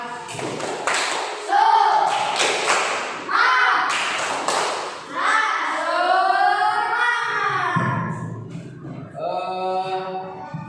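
Bursts of rhythmic hand clapping from a classroom spirit-clap routine, sharp and close, come in quick clusters between stretches of chanted, sing-song voices that carry the rhythm throughout.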